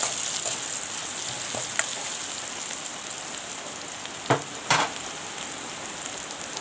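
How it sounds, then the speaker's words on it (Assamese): Spices fry in oil with green chillies for a chicken dish, a steady close crackling sizzle broken by a few sharp spatula knocks near the end. "ভাজি লওঁ মছলাখিনি"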